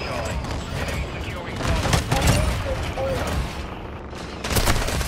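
Call of Duty gunfire on the Shipment map comes in rapid overlapping bursts and single shots, loud and chaotic throughout, with a player's voice talking over it.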